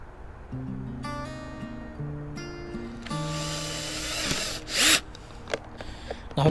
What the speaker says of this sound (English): Now I can finish drilling.